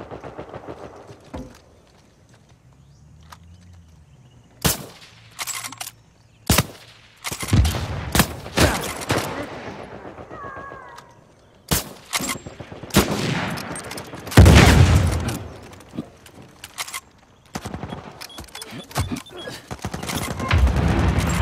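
Online multiplayer firefight in Uncharted 4, with sharp gunshots and short bursts of fire cracking out irregularly, some isolated and some in quick clusters, over a quiet game background.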